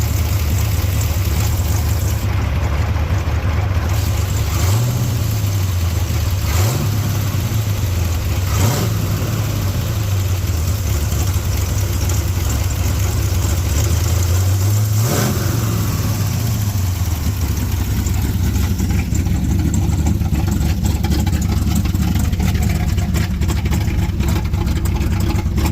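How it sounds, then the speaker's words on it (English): A Honda K20-powered 1985 car runs loud without mufflers, a harsh steady idle with several quick throttle blips rising and falling, close and continuous throughout. "So it's pretty loud, obviously. But it's got decent throttle response."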